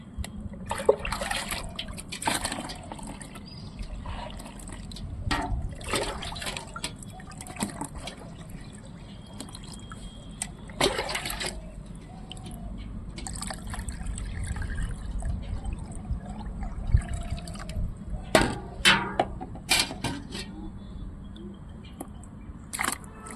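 Small amounts of water poured onto a potted tuber plant, a close, intermittent trickle and splash broken by handling noises and brief taps, no voices.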